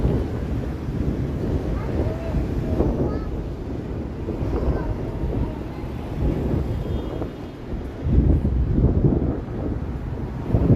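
Strong wind gusting outdoors on a downtown Toronto street on a Thursday evening, a loud, rumbling buffeting against the microphone that swells and eases throughout.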